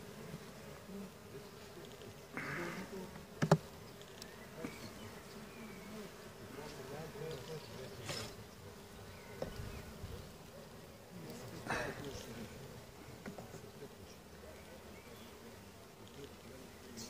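Honeybees buzz around an open beehive, a continuous close drone with louder swells as individual bees pass near, plus occasional handling knocks and scrapes from the hive.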